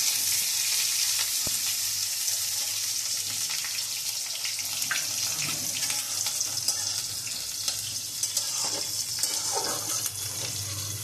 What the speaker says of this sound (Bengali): ডালে ফোড়ন দেওয়া হচ্ছে, তেলের ভিতরে গোটা জিরে, কালো জিরে আর শুকনো লঙ্কা।